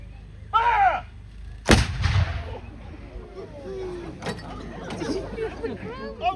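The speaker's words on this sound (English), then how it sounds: "Two gun ready. Number two gun. Fire. Fire." Artillery guns firing at a war-vehicle show, one huge close blast with rolling echo and rumble, plus a smaller report earlier, while people shout commands.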